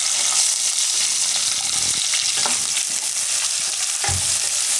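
Chopped onion sizzles in hot oil with curry leaves while a spoon turns it, a constant loud frying hiss with occasional scraping knocks against the pan.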